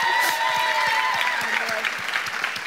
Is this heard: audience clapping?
yes